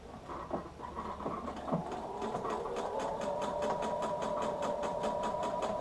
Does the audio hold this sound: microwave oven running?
no